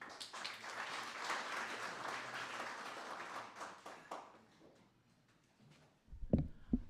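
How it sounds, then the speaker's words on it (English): Audience applause at a convocation business breakfast, a few seconds of moderately loud clapping that fades out, followed by quiet and then a brief close knock or handling noise. "Round of applause, please"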